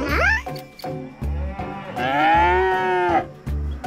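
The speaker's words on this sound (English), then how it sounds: "That's the sound a cow makes." Loud cattle moos, several long bellowing calls one after another, each with a rising, sustained tone, close and clear with no talking.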